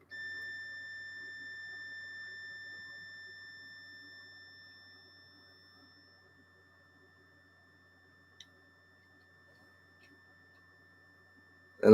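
Geiger counter radiation alarm holding a steady high electronic tone that fades over several seconds, followed by near silence, a single faint tick and an abrupt burst at the very end.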